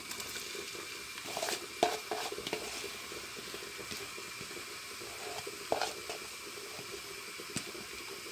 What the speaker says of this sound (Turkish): Yağımız ısındı, soğanı ekleyelim.